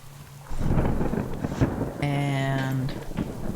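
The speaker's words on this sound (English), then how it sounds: "And there comes the rain." Rain and rolling thunder in the survival game Subsistence, a loud low rumble over a steady wash of rainfall, with a voice speaking briefly partway through.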